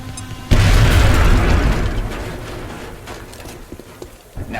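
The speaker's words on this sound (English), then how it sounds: "Now toss your grenade at the enemy in front of you." A single loud grenade blast in the video game XCOM: Enemy Within, a sudden deep boom that rolls into a long rumbling decay with debris-like crackle, with no voices over it.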